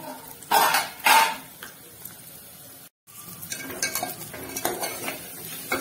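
Drumstick pods tossed with salt in a pan, a spoon scraping and clinking against the metal in a few distinct strokes, with a faint sizzle underneath and a brief gap midway.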